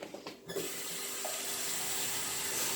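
Tap water pours steadily into a cooking pan while chicken stew is being made, a close, continuous gushing hiss that starts after a few soft clinks.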